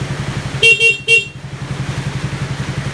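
Two short, loud horn blasts ring out over the steady putter of an idling Raider 150 Fi motorcycle engine, which keeps running underneath afterward.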